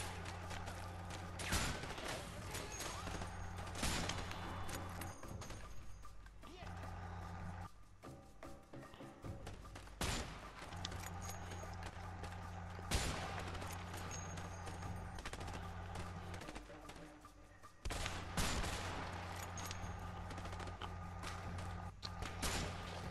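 Gunfire in the video game A Way Out: repeated sharp bursts and thuds of shots over a steady droning game soundscape, with a few louder impacts spaced through the stretch.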